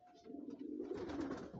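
A crowd of pigeons, highflyer and racing breeds, coos together in a low, continuous burbling murmur that swells slightly midway, heard faintly with no one speaking.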